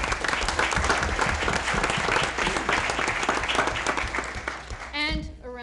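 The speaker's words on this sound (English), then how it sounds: "So a round of applause to both Mr. Horvath and Mrs. Senza" A school board meeting audience applauds two honorees, steady dense clapping for several seconds before it stops abruptly and a voice begins speaking.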